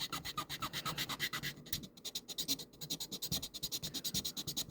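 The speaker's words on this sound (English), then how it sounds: "we'll take our sanding stick back" A sanding stick rubs back and forth across a small 1/32 scale model cockpit part, making quick, rhythmic, gritty scraping strokes up close and quiet, with a brief pause midway and no talking.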